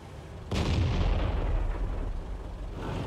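A heavy tank gun fires an APCR round in the World of Tanks game, a single loud boom starting abruptly and rolling out into a long, dense rumbling tail.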